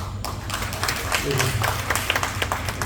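An audience at a poetry recital claps in scattered bursts that build and continue, heard under a speaking voice.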